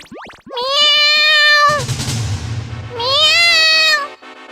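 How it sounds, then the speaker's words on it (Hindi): Cartoon cat meowing in a Hindi animated children's story, two long, loud, drawn-out meows separated by a brief noisy thud, close and clear with no talk. "इतने में वहां पर बिल्ली आ गई।"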